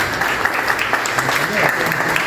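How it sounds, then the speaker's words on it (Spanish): An audience at a reception applauds two honored men, steady clapping filling the space while a voice speaks faintly over it. "Para esos dos prohombres pido un aplauso de todos ustedes"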